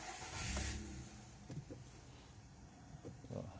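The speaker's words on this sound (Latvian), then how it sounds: "darbinam motoru" A car engine cranks and catches, swelling loudly early on, then settling into a steady running rumble with a few brief knocks and shifts, close by, on a car with the generator's positive terminal disconnected.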